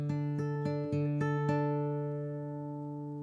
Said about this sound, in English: Just some simple acoustic guitar.